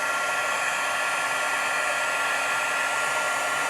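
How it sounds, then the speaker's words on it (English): A heat embossing tool blasts hot air onto a handmade card, giving a steady, loud, even whoosh like a small hair dryer that holds without a break from start to finish. "I'm going to turn this around and start embossing the other side of our card."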